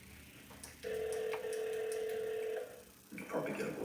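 Telephone tones ring out on a call placed from a handset, with a steady sustained tone holding for almost two seconds amid faint background noise, followed by a brief burst of muffled voice.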